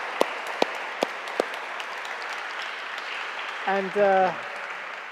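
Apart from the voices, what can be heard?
audience applause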